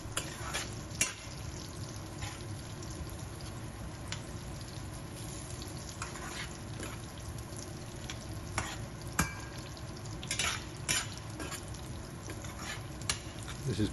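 Onions and sultanas frying gently in a pan for lamb biryani, a steady soft sizzle with occasional stirring clicks and scrapes, close and continuous with no talking.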